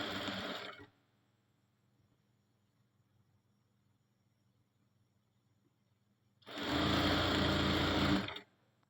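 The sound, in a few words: sewing machine stitching along a line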